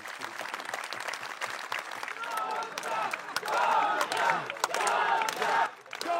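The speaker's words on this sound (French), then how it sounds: "sa dirigeante Giorgia Meloni a été acclamée par ses partisans" Supporters cheer and applaud Giorgia Meloni at an Italian election campaign rally, a dense, steady crowd roar with shouts and clapping that swells louder in the second half before briefly dipping at the end.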